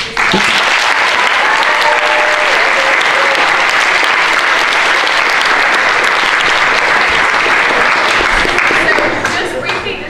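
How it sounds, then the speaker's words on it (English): Loud, sustained applause for the speakers at a university debate on whether God is evil, a full room clapping steadily for ten seconds with faint voices underneath before it begins to thin out. "can we just give a round of applause to all the speakers?"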